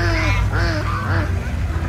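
A duck quacks several times in quick succession, close and loud, a short nasal call run over a faint low hum.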